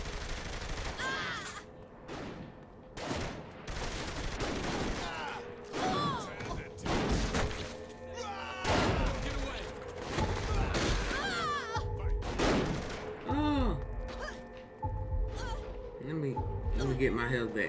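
Bursts of gunfire from Saints Row 3 Remastered ring out repeatedly, loud and close, some in rapid clusters, while a voice talks over the shooting throughout.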